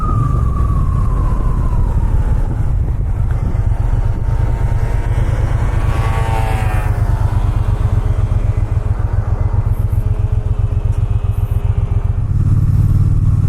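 A Triumph Bonneville T120 Gold Line motorcycle engine drones steadily while riding, with a continuous loud low rumble and rising and falling pitch as it works through smooth gear shifts.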